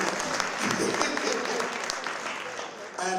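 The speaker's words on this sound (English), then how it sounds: "Clap for that. Clap for that." A crowd at a benefit concert claps together in a steady, fairly dense round of applause that holds through the moment before easing slightly at the end.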